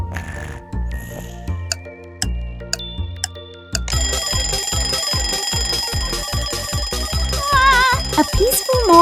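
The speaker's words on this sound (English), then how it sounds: "A peaceful morning begins with the usual battle between Bluey and the alarm clock" A cartoon alarm clock rings through a wake-up music track, starting with sparse bell-like tones and then breaking into loud, steady rhythmic ringing backed by a thumping beat.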